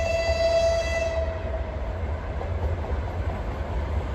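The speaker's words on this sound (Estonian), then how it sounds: "Sama rong tuleb Jõhvist tagasi." A train passing along an Estonian line near Jõhvi, its horn holding a steady tone that fades within a second, followed by a loud continuous rumble of rolling wagons, with no talking.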